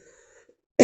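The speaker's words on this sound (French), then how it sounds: "Excusez-moi si je tousse" A woman who is ill gives one short, loud cough right at the end, after near silence with a faint hum.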